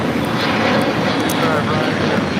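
An airliner on its takeoff roll at LAX gives a steady, loud, broadband engine roar that fills the whole short span, with voices talking over it.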